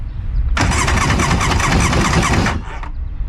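A jet ski engine cranks over on a jump box during a compression test, a loud steady rhythmic whirring churn for about two seconds, then stopping abruptly and trailing off into quiet.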